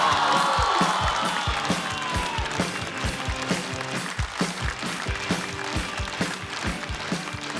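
Studio audience at a Chinese stand-up comedy competition show claps and cheers to welcome a comedian to the stage, a dense, loud, sustained wash of applause with scattered whoops, steady throughout.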